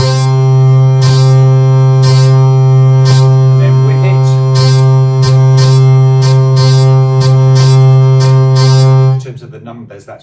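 Hurdy-gurdy playing a tune without an offbeat: a loud steady drone with melody notes and regular rhythmic buzz bursts, ending abruptly near the finish as the sound drops away.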